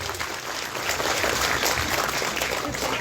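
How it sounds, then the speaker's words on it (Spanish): Audience at a Mother's Day event clapping steadily for about three seconds, a dense, even wash of applause from a crowd. "Aplauso para el número 1."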